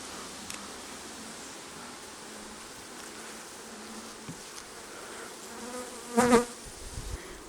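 Honey bees hum in a dense, steady buzz during an open hive inspection, with soft rustling and occasional light knocks, and one brief, louder buzzing swell as a bee passes close; no talking.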